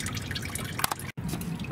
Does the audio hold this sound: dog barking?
no